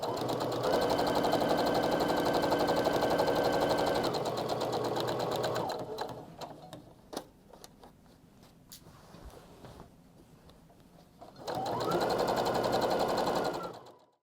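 A sewing machine stitches quilt wedges cut from fat quarters together in a loud, steady whirring run. After a quieter pause with faint handling clicks, a second burst of stitching follows, heard up close.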